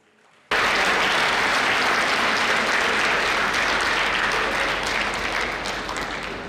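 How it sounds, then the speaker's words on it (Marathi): An audience at a results celebration breaks into loud, dense applause that starts abruptly and keeps up steadily, easing slightly toward the end. "पुन्हा एकदा मी सरांसाठी जोरदार टाळ्या तुमच्याकडे मागते"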